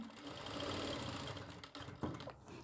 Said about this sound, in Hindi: इसे सिलाई लगाते हुए आना है